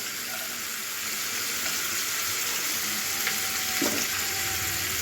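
Chopped garlic fries in hot oil, a steady, even sizzle with light bubbling that holds at a constant level up close, with no voices over it.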